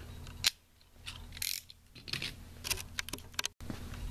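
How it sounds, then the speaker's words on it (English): A knife trims excess thread during a football stitching repair, giving several quiet, close snipping and scraping clicks with small handling noises and a brief sharp cut, without any talk. "Take our knife and we are going to trim off the excess."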